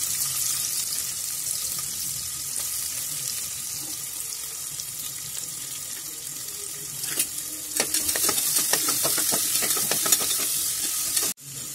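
Sliced onion tipped into hot oil in a cooker on a Kerala kitchen stove gives a steady, moderate sizzle with scraping and stirring clatter building toward the end.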